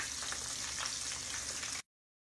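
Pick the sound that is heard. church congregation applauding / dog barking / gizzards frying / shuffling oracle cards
gizzards frying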